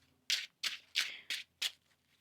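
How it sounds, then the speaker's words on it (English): Tarot cards being shuffled by hand: five quick, crisp riffling bursts in a loose rhythm, close and alone with no talking. "One more shuffle now."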